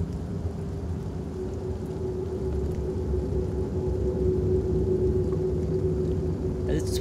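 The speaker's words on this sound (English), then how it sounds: "Do you think I can wait inside until the rain's over?" Steady rain in the horror video game Fears to Fathom 3, a constant even hiss of downpour with a low rumbling bed throughout, close and fairly loud, with no voices over it.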